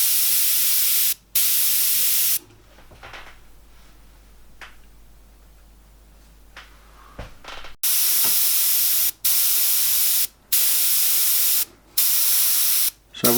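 Airbrush spraying a fine mist of paint for a portrait, heard as loud, steady hissing bursts that start and stop repeatedly, with a quieter stretch of faint hiss in the middle, close to the listener and free of talk.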